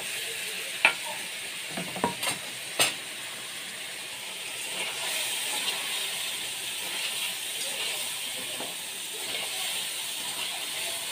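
Pointed gourds (potol) tumble into a hot pan with a few sharp knocks near the start, then settle into a steady, close frying sizzle that carries on evenly to the end.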